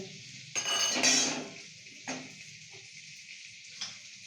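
Cashews and raisins frying in butter for a poha pulao, with a burst of metal spoon scraping and clinking against the pan, followed by a few lighter knocks over a soft sizzle.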